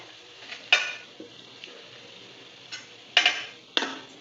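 Onions frying in a kadai on a lowered flame, with a faint steady sizzle broken by a few sharp scrapes and clinks as a spatula stirs and lifts them, three louder strokes standing out.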